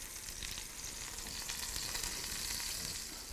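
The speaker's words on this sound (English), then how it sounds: "We're going to let him sear a long time in there." Yellowtail sears in a very hot pan, producing a constant crackling sizzle that runs evenly throughout at moderate volume, with no voices.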